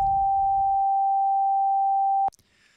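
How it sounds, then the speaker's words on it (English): Pure 800 Hz sine test tone holds steady and loud for about two seconds, then cuts off sharply with a click. A brief low rumble sits under its start, and faint noise follows the cutoff. "If we go up another octave, here's 800."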